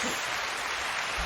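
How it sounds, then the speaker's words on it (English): Applause sound effect playing on its own, a steady dense wash of clapping that runs evenly through the whole moment at moderate loudness. "Applause for the tomatoes."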